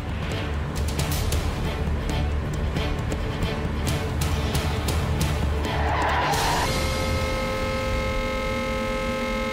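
A car drives and skids with a rising tire squeal, loud and close, amid dramatic background sound in a Telugu TV serial scene.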